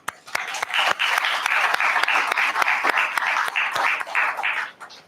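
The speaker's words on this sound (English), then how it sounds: "some seconds in a round of applause" A round of applause at the inauguration of an IEEE international conference, a steady close burst of many hands clapping for several seconds before tapering off.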